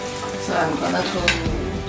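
Tomato and pepper fry in a pan, a close steady sizzle with the scrape and clink of stirring against the pan.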